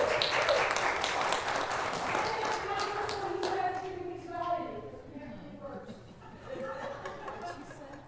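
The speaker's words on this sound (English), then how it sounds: "Give her a round of applause for that." Church congregation applauding during a Sunday worship service, a dense broadband wash of clapping that starts loud and gradually thins and fades, with voices and murmured talk rising underneath toward the end.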